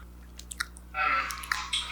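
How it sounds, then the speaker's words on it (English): Close-up ASMR mouth chewing, wet squishy smacks and soft bites that start sparse and become a louder, steady run of moist mouth noises near the microphone. "chewing in my mouth."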